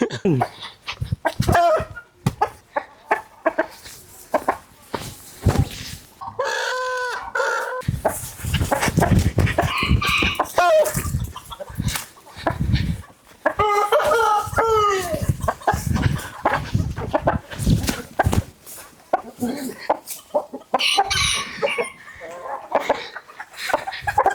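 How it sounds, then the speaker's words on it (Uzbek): A rooster clucks and squawks repeatedly amid excited talking and shuffling, close and loud, with several harmonic calls breaking through the voices. "xo'roz tutamiz"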